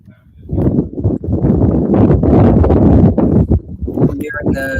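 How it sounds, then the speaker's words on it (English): Strong wind buffets the microphone at an outdoor high school boys baseball game in Bayonne, a loud, continuous rumbling roar with gusts rising and falling throughout, and voices faintly underneath. "Very windy in Bayonne."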